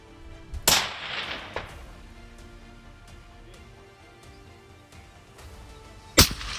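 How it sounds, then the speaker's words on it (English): Hunting rifle fired on an African mountainside during a baboon hunt; two sharp, loud cracks, one near the start and one near the end, each followed by a fading echo over quiet background. "The gunshot echoed across the mountainside."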